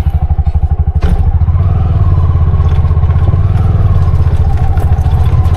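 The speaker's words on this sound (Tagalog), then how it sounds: "Tining ng makina." A Bajaj RE engine idles steadily and close by, a low rhythmic throb with a brief thud near the start and light clatter throughout.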